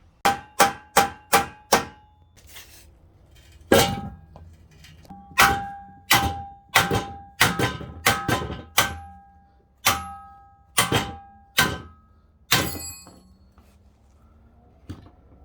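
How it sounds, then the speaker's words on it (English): A hammer strikes the metal sleeve of a Nissan 240SX suspension bushing to tap it out, sharp ringing clangs in quick bursts of several blows with short pauses, close and loud. "What you want to do is hit the sleeve so it slides out"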